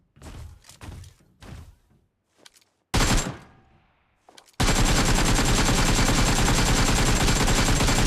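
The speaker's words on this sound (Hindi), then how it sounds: "गन है हमारा एकेम।" An AKM assault rifle fires in the mobile game BGMI: a few loud single shots and short bursts, then a sustained, dense stream of automatic gunfire that runs without pause to the end.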